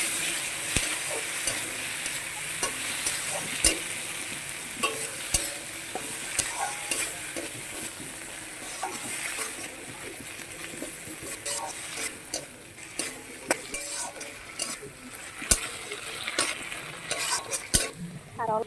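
Small fish curry stirred in a pan, with steady frying sizzle under repeated scraping strokes and sharp ticks of the spoon against the metal, close and continuous.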